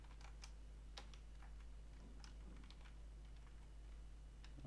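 Keys clack in a steady, uneven patter as an SQL query is typed on a computer keyboard, fairly quiet over a constant low electrical hum with no talking.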